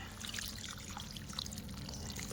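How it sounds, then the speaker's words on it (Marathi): Water poured into a steel mixer jar outdoors at a farm, a faint soft trickle and dribble lasting a couple of seconds, quiet and close. "मिक्सरचं भांडं म्हणलं यातच पाणी घ्यावं"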